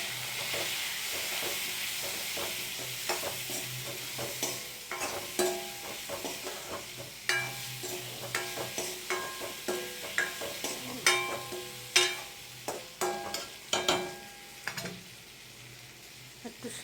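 Papaya pieces fry with turmeric in a pan, with a soft continuous sizzle broken by irregular scraping clinks as a spoon stirs them, close and fairly quiet.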